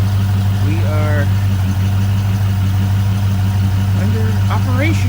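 A 1965 Ford Ranchero engine idles loud and steady with a deep rumble, while people talk briefly over it.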